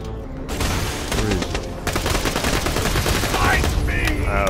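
Rapid gunfire from the video game Borderlands: The Pre-Sequel, a dense, sustained burst of shots that keeps going for several seconds, loud and close, with a brief gap near the start.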